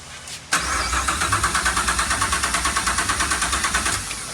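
A 1967 Chevrolet Camaro SS with a swapped LT4 V8 running open headers fires up with a sharp crank, then settles into a loud, close, rhythmic lumpy idle with evenly spaced pulses.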